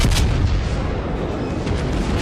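Battleship König firing a main-gun broadside in a naval video game, heard as one loud, sustained roaring blast that fills the whole moment, with no voices.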